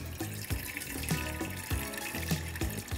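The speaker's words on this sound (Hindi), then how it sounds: "डालते हैं इसमें हम पानी।" Water poured into a pan set on a gas stove while making masala tea, a short continuous splashing and trickling stream with small irregular surges, close and fairly quiet.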